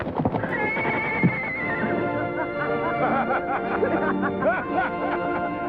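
A horse gives a long, loud whinny that rises and trembles, followed by snorts and short nickering calls, with faint hoof clops underneath.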